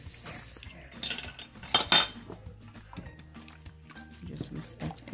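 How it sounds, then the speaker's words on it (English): Two large eggs whisked into the wet dough ingredients for cinnamon rolls: a metal whisk clinks and rattles in a bowl in uneven strokes, close up, with a few louder clanks and talking throughout. "Just whisk that in."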